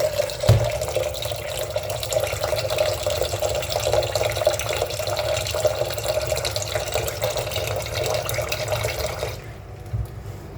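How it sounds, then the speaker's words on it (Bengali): Filtered water pours steadily onto peeled potatoes in a kitchen, a loud continuous splashing stream that runs for about ten seconds before stopping abruptly. "ফিল্টার পানি দিয়ে দেব, যতটা লাগবে ততটা"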